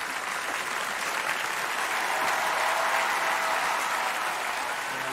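Steady applause from a television studio audience greeting a singer before he performs, a soft, even spread of many hands clapping at a distance with no voices over it.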